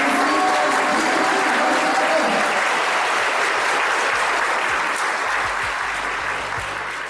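Families applaud at a school celebration for students moving on to high school, a sustained wash of clapping from a crowd that fades slightly toward the end.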